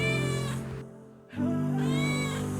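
A cat meows twice, drawn-out and close, the two cries separated by a short quiet gap.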